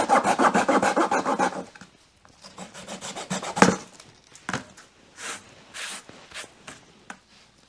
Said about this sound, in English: So you can use a pull saw to cut this.